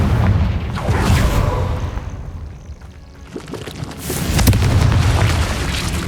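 A Confringo fire spell from Hogwarts Legacy detonates in deep booming blasts, one burst at the start and a second after a brief lull, loud and close with no voices.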